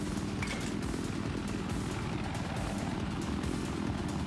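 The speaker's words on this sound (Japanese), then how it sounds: "あ、敵のヘリだ。" An enemy helicopter in Battlefield 4 flies nearby, its rotor producing a continuous, fairly loud drone that holds steady throughout.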